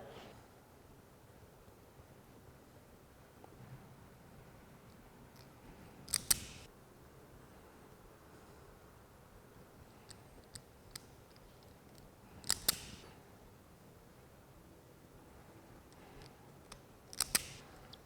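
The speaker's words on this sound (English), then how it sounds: "go ahead and crimp those down" Crimping tool squeezing wire connectors onto a 2015-2017 Mustang LED sequential turn signal harness, with three sharp crimp clicks spaced several seconds apart and a few faint ticks between them over a quiet background.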